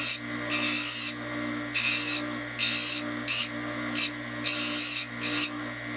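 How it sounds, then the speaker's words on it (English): Sandpaper on a bench lathe trims an acrylic partial denture in a series of repeated raspy bursts, each lasting under a second, over a constant motor hum. "2 hands on the denture and my sandpaper steady in the bench lathe"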